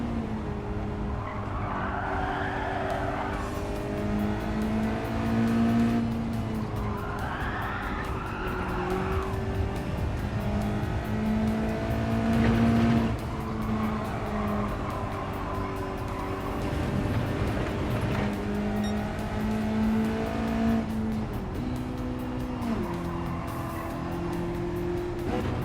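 Race car in Gran Turismo 7 lapping the Nordschleife, engine droning loudly and rising through gears while tires squeal repeatedly in long wavering bursts, continuous and close with no talk.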